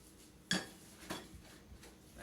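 Thrift-store ceramic dishes clink in a home kitchen while baked mac and cheese is prepared: one sharp bright knock, then a softer clink and faint scraping, close and fairly quiet with no talk.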